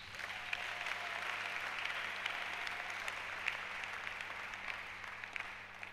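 A church congregation applauds steadily and fairly loudly throughout, a dense even wash of clapping with no pauses.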